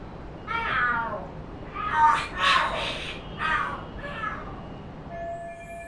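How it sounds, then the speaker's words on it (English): Cats screeching and yowling in a fight in the video game Lost Judgment, several loud wailing bursts in quick succession over a low game background hum. "Are there cats fighting?"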